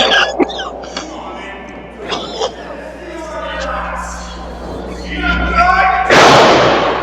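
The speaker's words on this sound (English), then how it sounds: "just a series of hard punches right to the face" Hard punches thud into the face during a televised championship pro wrestling tag match, a few scattered impacts heard over loud commentary and crowd noise, ending in a burst of crowd roar.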